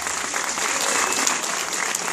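A crowd at a Star Wars fan convention in Argentina applauds a costume prize winner, sustained steady clapping filling the room at moderate loudness.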